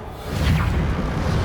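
Reparo, the repair spell cast in the Hogwarts Legacy game, gives a sustained magical whoosh over a low rumbling swell that builds and holds for about a second and a half.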